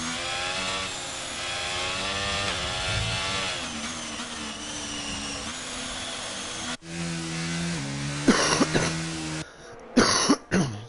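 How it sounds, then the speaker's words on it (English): A person coughs and clears their throat several times over a steady droning background, the coughs loud and close near the end. "Excuse the coughing, chat."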